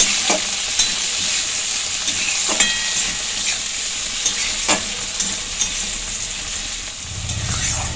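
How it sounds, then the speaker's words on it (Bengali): Potatoes and cauliflower frying and being stirred in a pan for a paneer curry, a constant sizzle punctuated by sharp spatula scrapes and taps at irregular intervals, close and loud. "এগুলোকে খুব ভালো করে আমি ভেজে নিয়েছি"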